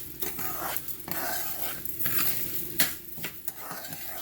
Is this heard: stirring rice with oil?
yes